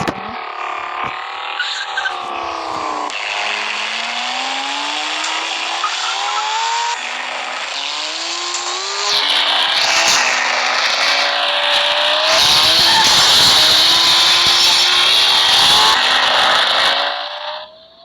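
Car engine in a video game, a continuous loud revving drone that climbs and shifts pitch through gear changes, building to a sustained high whine with some tire noise, alone without talk.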